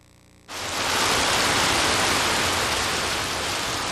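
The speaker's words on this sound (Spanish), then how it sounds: "Un aguacero torrencial cae sobre las bananeras que rodean un pequeño pueblo llamado Aracataca." Torrential rain downpour over banana plantations, bursting in suddenly and then roaring as a dense, loud, steady wash of noise with no voices.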